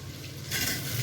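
Potato and eggplant hit hot oil tempered with cumin, radhuni and tomato, and the low crackle jumps into a louder, bright sizzle about halfway through, with faint stirring.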